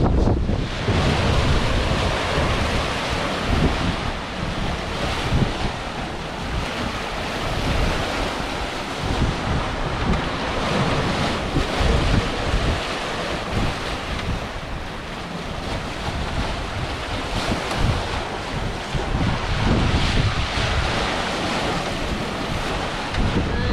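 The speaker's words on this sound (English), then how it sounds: "Inside you hear the water rushing along the hulls and the occasional slam." Water rushes continuously along the hulls of a sailboat crossing the Atlantic, a dense surging wash with wind buffeting the microphone and occasional heavier thumps.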